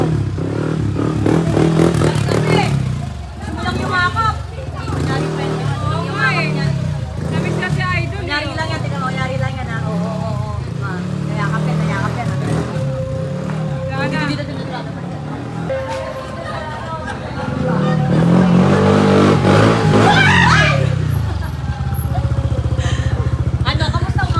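A motorcycle engine revs and idles nearby, rising and falling in pitch, while people talk and laugh over it.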